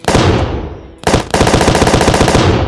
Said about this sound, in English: what happens when we fire all of these autocannons